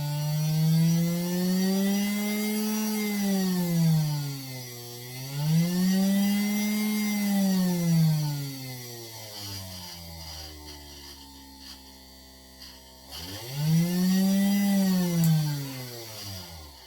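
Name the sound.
bigger 12 volt brushed motor running on homemade speed controller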